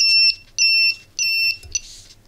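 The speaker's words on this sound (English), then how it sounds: "makes turn on and turn off the base of the transistor, so we get that beeping sound" A simple single-transistor circuit beeps in three long, piercing tones of equal length separated by short gaps, ending in a briefer chirp, loud and close with nothing else over it.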